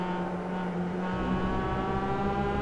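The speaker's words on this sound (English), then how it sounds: "That car hop when you shift." Engine drone of a Mazda MX5 race car at Silverstone in the iRacing game, hopping on a gear shift: a steady buzzing tone that dips and then resumes with a brief change in pitch partway through.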